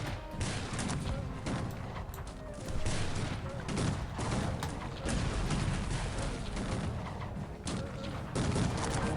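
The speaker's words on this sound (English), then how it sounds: "It's an absolute firing squad." Musket volleys from a firing squad in the strategy video game Cossacks 3, a dense continuous crackle of overlapping shots with repeated louder bursts, loud and steady throughout with no pauses.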